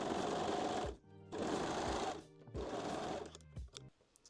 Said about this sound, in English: Now we can sew this seam using a serger or a zigzag stitch.